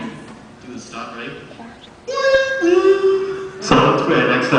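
A man vocally imitates a Boston MBTA Orange Line train stopping, producing a sustained tonal whine that slides down in pitch, preceded by brief talk and ending in a harsh burst.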